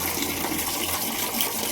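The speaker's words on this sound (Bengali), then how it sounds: "জল পড়ছে।" Water gushes steadily into a golden fish pond, a continuous close splashing rush that holds unbroken and alone throughout.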